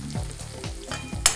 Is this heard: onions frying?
yes